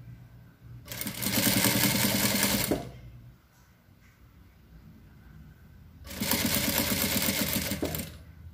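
Sewing machine stitching bias binding to finish the edge of a fabric maternity bag with tulle, two loud bursts of steady rapid motor-driven stitching separated by a quiet pause.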